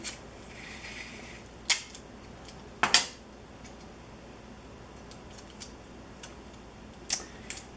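Scissors snip through a metal strip for a homemade cookie cutter, a few sharp, crisp cuts with quiet pauses and small metallic ticks between them, close up in a quiet room.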